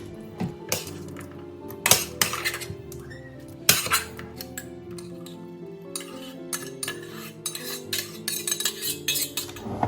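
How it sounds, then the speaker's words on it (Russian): A spoon transfers marinated mushrooms into a jar, producing a series of close clinks and scrapes against glass, irregular in rhythm, with soft wet shuffling between the knocks. "Аккуратненько переложу грибы сначала. Можно было, конечно, и ложечку побольше взять."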